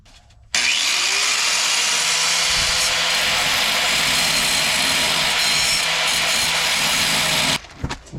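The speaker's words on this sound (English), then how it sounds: "We're going to grind down one spot weld, see how that goes." A grinding wheel grinds down a spot weld on a TT Vert 300ZX car body, a loud continuous abrasive whine that starts abruptly, holds steady for about seven seconds, then cuts off.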